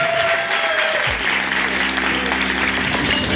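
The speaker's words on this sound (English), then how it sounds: "Another round of applause for Tara Lampkins." Sustained audience applause for an honoree at a women's recognition event, steady and full throughout with a few crisp claps standing out and a low hum entering partway.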